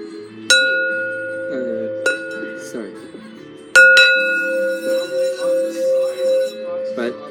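A metal singing bowl is struck abruptly several times, each hit a sharp bright strike followed by a long ringing tone with a pulsing, wavering decay near the end.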